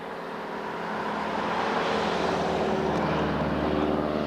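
A crop duster airplane's propeller engine drones loudly and steadily, swelling as it nears and holding a close, continuous roar over open ground.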